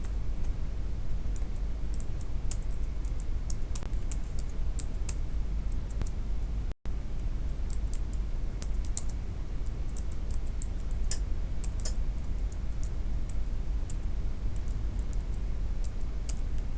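A computer keyboard is typed on in irregular bursts of light, crisp key clicks. Brief pauses break the clicks, and a steady low background hum runs underneath, with no talking.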